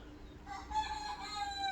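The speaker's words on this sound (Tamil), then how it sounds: "கொக்கரக்கோ கோ." A single rooster crows close by, one drawn-out harmonic call lasting over a second above a low background rumble; the bird is the one surviving chick from a brood of four or five.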